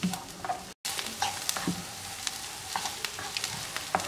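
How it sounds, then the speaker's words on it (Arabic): Sliced peppers and onions sizzle steadily in a pan while a utensil stirs them, with scattered scraping clicks and a brief moment of silence early on. "وغادي نحركهم مزيان ونخليهم حتى يدبلوا واحد شويه"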